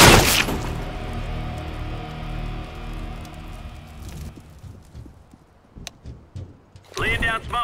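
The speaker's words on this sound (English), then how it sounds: "Deploying flashbang." A flashbang grenade bursts with a loud, sharp blast and ringing tail in the CSGO video game, fading over several seconds before a burst of talk near the end.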